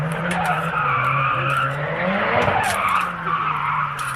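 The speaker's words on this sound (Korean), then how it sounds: "드리프트하고 난리 났네, 드리프트하고." Cars drift at a spot beside an autumn campsite, tires squealing continuously with a loud, wavering screech over a droning engine roar, unbroken across the whole stretch.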